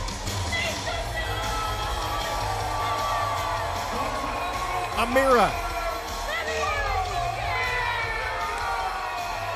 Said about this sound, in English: You don't have to ask too much to get this rowdy pavilion full of Relentless Wrestling fans to make some noise.